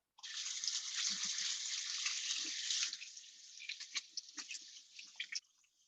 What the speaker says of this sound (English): I'm just gonna give my hands a rinse